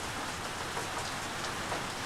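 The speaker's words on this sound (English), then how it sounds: "It's raining." Rain falls steadily in Northland, a dense, even patter of drops on surfaces that holds constant at moderate volume with no voices.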